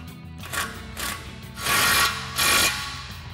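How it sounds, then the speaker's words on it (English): Ratchet with a 21mm socket tightening a tie rod nut on a 2021-2024 Ford F-150 front end during a leveling kit install, sounding as several short, close clicking bursts with brief pauses between. "we'll tighten that back down again with our 21mm socket"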